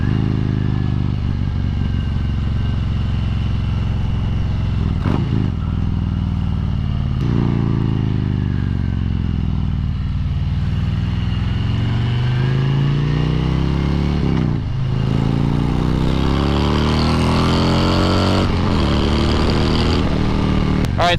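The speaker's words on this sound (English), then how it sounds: "You got that nice, you know, Harley rumble." A 2020 Harley-Davidson Road King Special rumbles steadily while being ridden, its low loping engine note continuous under wind noise, with slight rises and falls as the throttle shifts.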